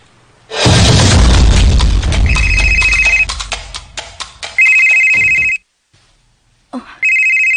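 A phone ringtone sounds for an incoming call, loud and close, its electronic melody opening with a booming burst, then repeating in bursts separated by short gaps.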